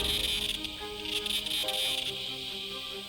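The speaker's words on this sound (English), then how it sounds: "When millions of cicadas click in the forest, it resembles the sound of a jet plane or a circular saw working." Cicadas chirring in a forest, a dense, steady high-pitched buzz with scattered clicks and pulses, layered with other faint tonal insect calls and no talking.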